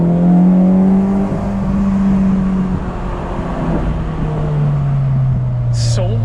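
Engine of a Honda Civic Si FG2 with a K24 swap pulls hard along a backroad, a loud, steady drone that climbs and then shifts pitch as it accelerates, close to the listener and not interrupted by talk.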